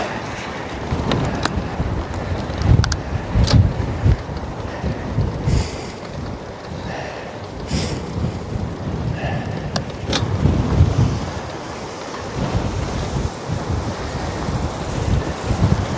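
A strong crosswind and tailwind buffets a microphone near the sea around Tarifa and Gibraltar, roaring in uneven loud gusts with rumbling bursts and brief sharp clatters, continuous and close.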